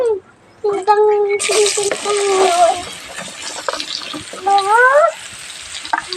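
Potatoes and pointed gourd hit hot oil with turmeric, giving a sudden loud sizzle that holds steady under a voice talking throughout.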